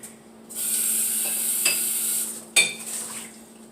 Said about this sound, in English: So let me rinse that out.